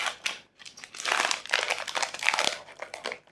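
A Pokémon 151 booster pack from a binder collection box torn open, foil crinkling and crumpling in close bursts with brief pauses, alone without talk.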